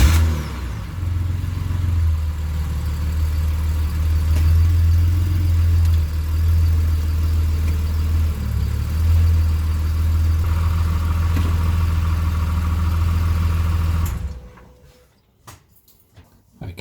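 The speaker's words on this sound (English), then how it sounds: "now I'll start the car up and cycle it through the gears" Ford FG Falcon six-cylinder engine idles steadily and close by for about fourteen seconds, with slight shifts in pitch, then cuts off abruptly into near silence.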